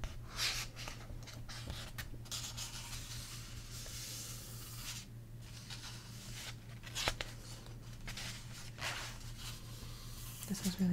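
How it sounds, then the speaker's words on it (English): Paper pages of a book being turned one after another, soft rustles and brushes up close against a faint steady low hum, with a few sharper flicks spaced through the stretch. "Gonna do some page turning for you."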